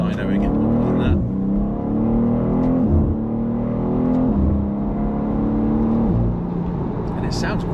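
Engine of a new G87 BMW M2, roughly 460 horsepower, accelerating through several gear changes, a steady close drone that climbs and dips under a passenger-cabin hum, with people talking over it.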